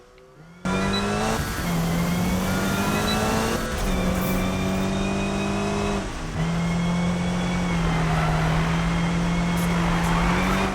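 Race car engine in a Need for Speed sprint race, a loud steady roar that climbs in pitch through several gear shifts, with brief dips between gears and no talking.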